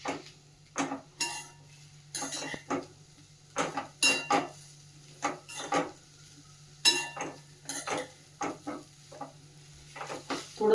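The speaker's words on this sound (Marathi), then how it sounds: "थोडं सुरुवातीला गूळ मिक्स होईपर्यंत हे बऱ्यापैकी हलवावं लागतं." Jaggery is stirred in a pan for a sweet modak filling, a spatula scraping and knocking against the metal in a steady rhythmic series of close strokes, with no talk.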